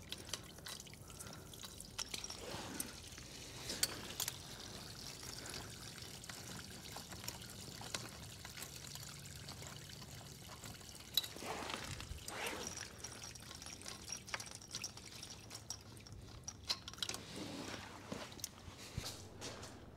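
Water trickles and drips steadily as it drains out of a reverse osmosis membrane used for maple sap, a faint, continuous patter with occasional louder splashes.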